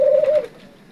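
A single soft, low coo from a turtle dove, close and clear, fading out after about half a second.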